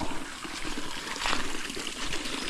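Irrigation water running into a flooded rice paddy, a steady close trickling and pouring wash with small splashy bursts, continuous for the whole stretch with no voices.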